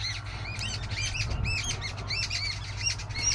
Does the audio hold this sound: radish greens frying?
no